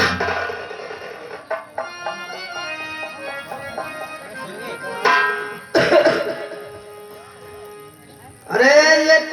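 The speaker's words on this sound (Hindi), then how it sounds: "अरे ये कौन खांस रहा है भाई?" A man coughs in a few sharp bursts, spaced apart, over music and dramatic dialogue in a staged Ramayana scene.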